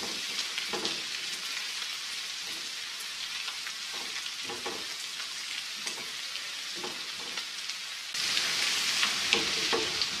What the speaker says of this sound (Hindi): प्याज के साथ हम ये लहसुन अदरक कुटा हुआ ये डाल रहे हैं